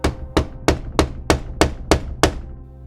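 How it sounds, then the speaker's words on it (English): Heavy knocking on an apartment door: seven loud, evenly spaced thuds in quick succession, close and alone. "that was the sound of the heaviest knock she'd ever heard in her life"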